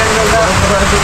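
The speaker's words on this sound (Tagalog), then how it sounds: "Grabe yung ulan, lakas." Heavy rain pours steadily on a surface near barracks, a dense continuous hiss with no breaks, loud and close, while voices can be heard talking over it.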